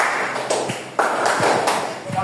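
Hands clap sharply several times in a classroom in a short, rhythmic pattern, each clap cutting through the talking around them.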